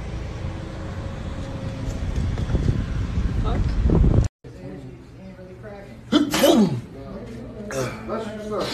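A person sneezes outdoors amid gusty wind noise on the microphone, followed by people talking and laughing nearby.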